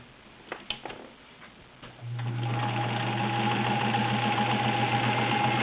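A Sears Kenmore 1802 sewing machine stitches through three layers of garment leather, a few light ticks giving way to a steady, close motor hum with a rapid, even needle rhythm at a moderate pedal speed.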